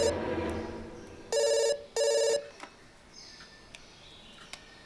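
A telephone bell rings in two short, loud bursts in a Telugu movie scene, following a brief murmur of voices, with quiet clicks and a soft background afterward.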